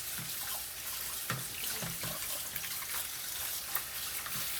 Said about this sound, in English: We're going to put some cold water on them.